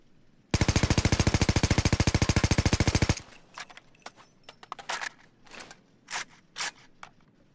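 AKMSU Krinkov carbine fired in Payday 2, one long full-auto burst of rapid, evenly spaced shots, loud and close, followed by scattered mechanical clicks and rattles.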